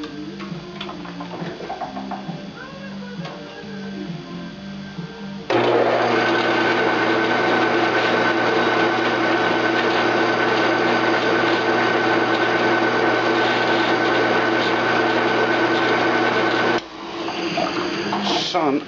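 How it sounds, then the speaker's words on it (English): A brand new motor on a rod holder build runs with a loud steady mechanical whir, starting abruptly after a quieter stretch of clatter and cutting out near the end, heard close up. "Brand new frickin' motor, and it keeps frickin' cutting out on me."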